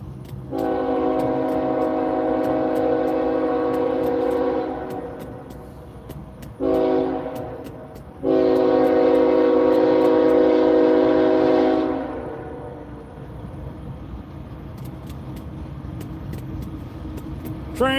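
Freight train passing along the Susquehanna River at night, its horn blaring in long loud harmonic blasts with short breaks, backed by steady rumbling rail noise that fades toward the end.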